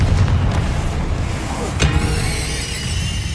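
A Confringo fire-blasting spell in Hogwarts Legacy bursts with a loud boom amid continuous rumbling combat noise, followed by a ringing, shimmering tail.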